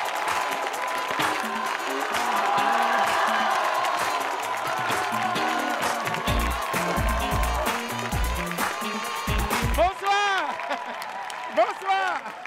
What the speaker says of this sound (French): Mesdames et messieurs, beaucoup d'applaudissements pour magnifique.